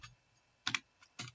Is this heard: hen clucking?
no